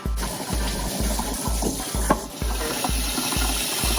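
Fish tank filter rinsed under a running tap, water splashing steadily with a regular thumping pulse about twice a second, close and fairly loud.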